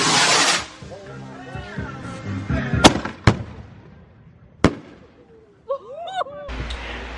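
Fireworks going off at a home Fourth of July celebration, with several sharp cracking bangs at varied distances, whistling rising streaks and crackle, while people talk and shout nearby.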